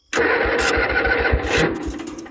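A 1967 Cub Cadet 71 garden tractor engine, custom-built and power-upgraded, is already warm and starts on a little throttle with no choke. It catches at once and settles into a loud, close, rapid thumping run, with no voices over it.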